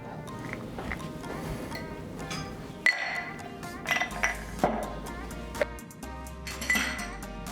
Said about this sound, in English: we're gonna start by adding ice into a mixing glass